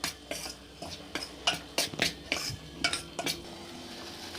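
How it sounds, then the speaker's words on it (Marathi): Dry snack mixture with amchur powder, turmeric and baking soda is stirred by hand in a metal bowl, making a run of quick scraping, rattling strokes with sharp clinks against the dish, close and steady for several seconds. "मिश्रण फक्त हाताने हलवून घ्यायचे"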